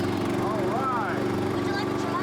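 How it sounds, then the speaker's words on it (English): A running lawn mower engine hums in a steady, close drone while people talk over it throughout. "This is a nice lawnmower!"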